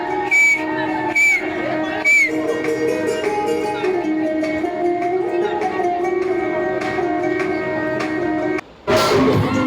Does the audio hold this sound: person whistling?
yes